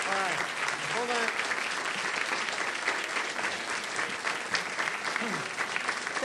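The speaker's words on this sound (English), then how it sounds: "Let's give her a round of applause." Audience applause at a City Club event for a U.S. Representative, a dense steady clapping from a sizable crowd lasting throughout, with a voice briefly heard over it at the start.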